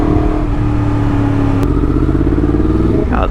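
Yamaha MT10 motorcycle engine running steadily and loudly up close at a petrol station, a continuous throbbing drone with a brief rev change near the end.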